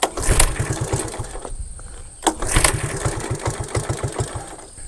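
An old Honda three-wheeler's two-stroke engine is choked and cranked, with rapid rhythmic pulses in two bursts and a brief pause between them, close and loud.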